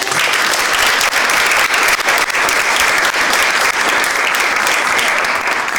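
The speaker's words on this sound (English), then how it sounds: "let's give Tiffany a round of applause." Loud, dense applause from an audience at a sales and brand-awareness talk, clapping steadily and close for about six seconds with small dips in intensity.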